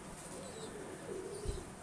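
Breeder pigeons coo softly on a rooftop, a faint low murmuring call that rises and falls over quiet background noise.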